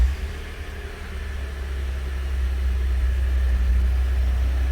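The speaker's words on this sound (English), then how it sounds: "I'm going to start the vehicle" A 2012 Ford F-150 engine idles with a steady low rumble that swells slightly and then holds even, with no voices over it.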